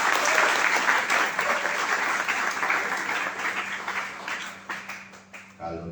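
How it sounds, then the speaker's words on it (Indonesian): Applause fills a hospitality school graduation ceremony in Bali, a dense, steady crowd clapping that holds strong for several seconds and then thins and fades out near the end. "Tepuk tangan untuk H2B."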